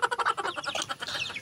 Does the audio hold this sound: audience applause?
no